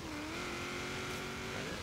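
A 1974 Holden Sandman HQ panel van in Forza Horizon 3 with its engine held at a steady, droning rev under load, close and continuous with a faint rise near the end and no talking.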